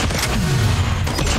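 A shotgun fires in the mobile game Call of Duty Mobile, a loud, close, booming blast with a rolling low tail that fills the whole short moment.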